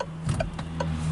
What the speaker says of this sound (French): je vais mettre le clignotant